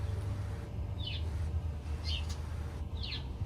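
A baby bird calls in a backyard, giving three short, high chirps spaced about a second apart over a low background rumble, faint and fairly distant.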